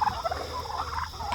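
Turkeys gobble in a pasture, a short burst of warbling calls at close range over faint background noise.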